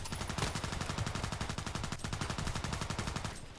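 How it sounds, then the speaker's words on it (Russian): A machine gun fires in the online shooter Contract Wars, a long, rapid, unbroken burst of evenly spaced shots, loud and close, with no talking over it. "мне нравится пулемет этот"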